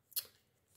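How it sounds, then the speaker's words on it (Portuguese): Scissors snip once through a sheet of EVA foam, cutting along a drawn line for a craft towel holder with foam flowers; a single close, crisp cut followed by quiet. "a gente vem e corta em cima do risco"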